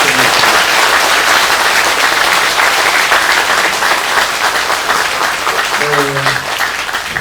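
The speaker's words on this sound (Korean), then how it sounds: "박수 한번 부탁드립니다" Loud, sustained applause from a large crowd at a Korean Buddhist temple's overnight practice sermon fills the whole stretch, with a faint voice briefly audible near the end.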